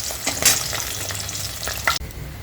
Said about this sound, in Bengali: তো এখানে দেখো চলছে ইলিশ মাছ ভাজা